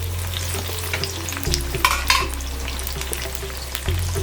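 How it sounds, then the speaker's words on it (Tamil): Onion and ginger garlic paste fry and get stirred in a pan over raised flame, a continuous sizzle under a low hum, with repeated scraping strokes and a brief louder burst of stirring in the middle. "இப்போ நம்ம போட்ட வெங்காயம், இஞ்சி பூண்டு பேஸ்ட்டு நல்லா வதங்கிடுத்து, பச்சை வாசனை போயிடுத்து."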